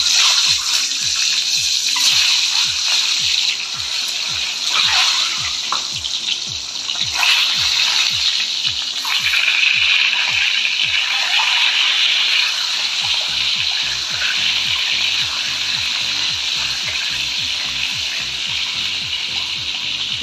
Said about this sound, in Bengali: তো এখন আমি ডিমটা ভেজে নিব, হালকা ভাজতে হবে।